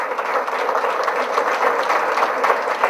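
An audience at an Immunotec business opportunity meeting applauds in a steady, even roar of clapping that stays constant and moderately loud throughout.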